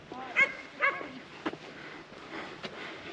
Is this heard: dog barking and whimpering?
yes